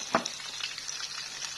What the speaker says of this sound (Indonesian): Goreng dulu tahu ya kayak gitu kan urutannya.